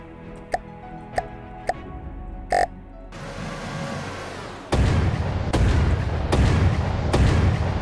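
Guns firing in the video game From the Depths, a few sharp evenly spaced shots and a brief burst, then heavier booming blasts repeating about once a second over a dense rumbling background.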